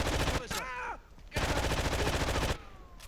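AK rifle fire in a first-person shooter video game comes as loud, rapid automatic bursts, with a short pause and a spoken exclamation between the two volleys.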